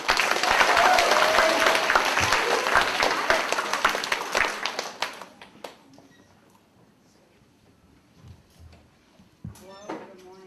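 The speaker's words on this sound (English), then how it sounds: "Round of applause, please, for Mike Stewart." Applause from a school academic assembly audience, dense and sustained for about five seconds before fading out, followed by quiet room noise and a few scattered sounds.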